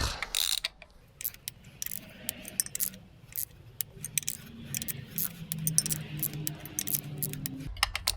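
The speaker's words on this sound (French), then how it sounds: "Donc on commence à rapprocher toutes les vis à 20 Nm." A torque wrench tightens screws to 20 Nm on a Renault Kangoo, giving close, repeated ratcheting clicks and metallic jangling in an otherwise quiet workshop.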